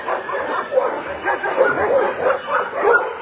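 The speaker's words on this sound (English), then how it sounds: "That was a dog named Sean." Dog barking at a shelter, with a few quick muffled yips repeating at a steady pace against a constant background hum.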